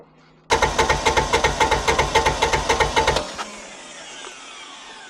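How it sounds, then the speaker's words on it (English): A Kawasaki Mule 3010 utility vehicle engine cranks over in a fast, even series of loud mechanical chugs for about three seconds, then cuts off abruptly and leaves a quiet hiss. "I'm going to start the engine."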